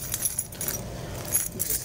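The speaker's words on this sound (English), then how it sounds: "Whose keys are these?" A bunch of keys jangles steadily and close by for a couple of seconds, a bright metallic rattle with light clinks, with no talking.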